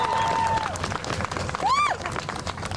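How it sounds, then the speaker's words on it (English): A round of applause from the crowd at a mayoral press conference, steady dense clapping with scattered cheers and a sharp whistle rising above it, voices faintly mixed in. "if we can have one last round of applause for Tasha Van Auken and Ali Najmi"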